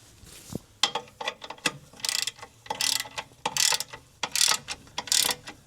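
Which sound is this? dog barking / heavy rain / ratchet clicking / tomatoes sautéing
ratchet clicking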